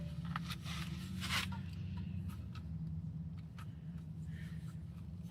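Ratcheting and scraping of a C-clamp being tightened to push the brake caliper piston back on a 2006 Honda Civic, with a series of small clicks and ticks over a low steady rumble in the background.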